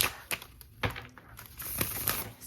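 Oracle cards for a romance and love reading are shuffled, giving a run of soft papery riffles and light taps, close and fairly quiet, with no voice.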